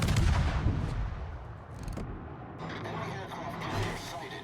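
Naval gunfire in World of Warships from a tier 9 destroyer battle, heard as booming artillery-like shots and a rumbling battle din, with a voice talking over part of it.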